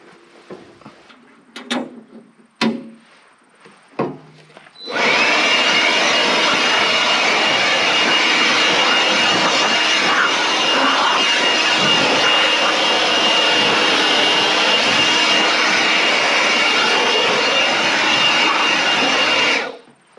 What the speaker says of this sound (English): With that blower, it really cleans the inside of the saw out very quickly.